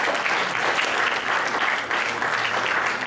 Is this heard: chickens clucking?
no